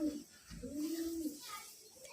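Highflying tumbler pigeons coo nearby in low, rolling bursts, one short and one longer, with faint background noise.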